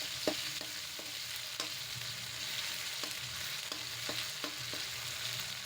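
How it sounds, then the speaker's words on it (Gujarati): Ginger-chili paste and cumin sautéing in a pan give a steady, soft sizzle, broken by faint scattered clicks of stirring, with no voices. "આને હું 1 મિનિટ માટે સાતળી લઈશ।"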